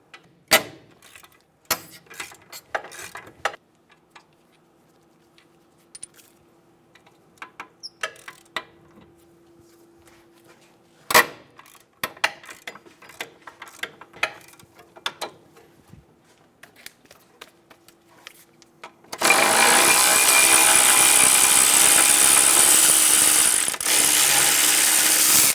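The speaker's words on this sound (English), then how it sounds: "Using a 17mm socket, remove the bolts for the caliper bracket." A 17mm socket ratchet loosens the caliper bracket bolts on a 2010-2014 Subaru Outback, producing close, sharp clicking bursts separated by quiet gaps, then a loud steady hiss or rush takes over for the final stretch.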